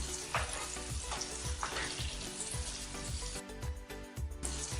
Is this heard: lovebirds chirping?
no